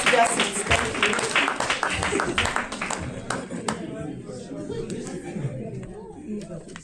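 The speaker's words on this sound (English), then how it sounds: "Clap for them as they go back to their seats." An audience at a tech summit claps for speakers returning to their seats, a burst of applause that fades over several seconds beneath overlapping voices.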